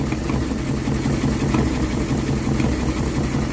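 A Ford Galaxie engine idles with a replacement carburettor, new plugs, leads and fan belt fitted, giving a steady, close, low rumbling drone that holds even throughout with no talking.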